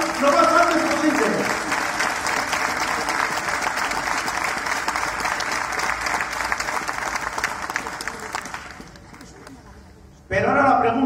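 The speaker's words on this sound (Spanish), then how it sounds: "Por eso, un aplauso para todos ellos" Loud, sustained applause from a crowd at a public square rally fills most of the stretch, fading out toward the end before a brief burst of voice cuts in.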